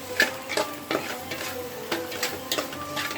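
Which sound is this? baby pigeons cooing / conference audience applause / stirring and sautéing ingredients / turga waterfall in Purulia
stirring and sautéing ingredients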